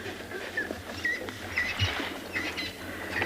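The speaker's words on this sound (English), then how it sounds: "Listen to all the birds for the morning." Morning birds on a South African safari chirp in short, faint repeated calls at a distance, heard over a low rumbling background.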